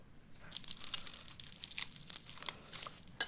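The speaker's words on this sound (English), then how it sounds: "I'm gonna open the fig ball, and it's dried and wrapped in fig leaves" Dried figs wrapped in fig leaves are unwrapped by hand, giving close, dry crinkling and crunching leaf rustles in bursts over a few seconds.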